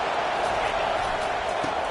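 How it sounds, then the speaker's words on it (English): A college football stadium crowd roars steadily during a playoff game with Utah, a dense, continuous wash of cheering that holds its level without a break. "Now the crowd responding in the red zone, trying to help this defense."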